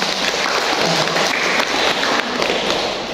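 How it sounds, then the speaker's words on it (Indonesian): Crowd applause at a school foundation chairman's handover-of-office speech in Sragen, a loud continuous patter of many hands clapping with slight surges, no voices over it. "Tepuk tangan untuk kita semua"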